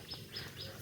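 Three quick, high bird chirps spaced evenly over a soft, steady outdoor background.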